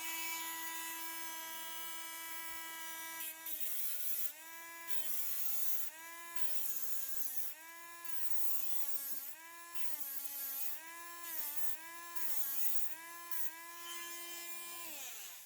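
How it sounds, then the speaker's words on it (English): A rotary tool fitted with a diamond cut-off wheel grinds down the end of a metal piece. A close, steady high whine repeatedly dips and recovers in pitch as the wheel bites under load, with no talking. "So this is a diamond cut-off wheel I have on the rotary tool."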